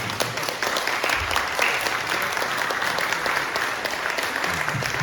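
A church congregation at a summer retreat Sunday service applauds, a dense, steady clapping that fills the room and holds evenly throughout.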